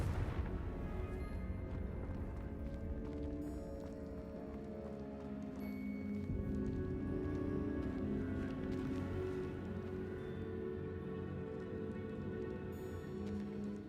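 Confringo blasting spell going off in Hogwarts Legacy on the Switch 2: a loud, sustained rumbling explosion that roars continuously throughout with heavy low-end boom and crackling debris, no talk over it.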